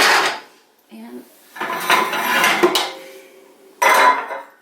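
Hot pans for a Dutch baby pancake lifted out of an oven, with metallic clatters and clunks of pans against racks in bursts, a brief pause between, close and fairly loud.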